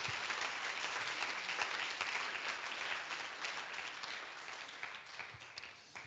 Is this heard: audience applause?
yes